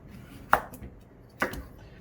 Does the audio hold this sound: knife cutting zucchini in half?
yes